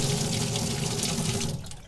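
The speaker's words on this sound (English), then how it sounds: "turn the water on full blast for a couple seconds" A water tap runs full blast into a slop sink with a dense, steady rushing gush that stays loud and close, then eases slightly at the end.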